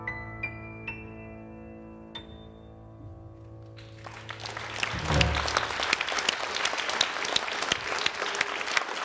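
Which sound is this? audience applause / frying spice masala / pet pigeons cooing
audience applause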